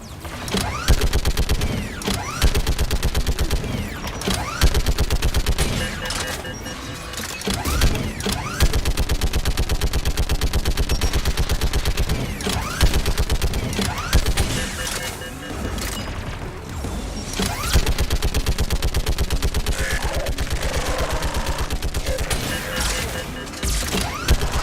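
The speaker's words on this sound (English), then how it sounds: "Shepard, you can use that Geth turret" A Geth turret fires in a sci-fi video game battle, with dense, rapid bursts of gunfire and mechanical clatter that continue almost without pause from start to finish.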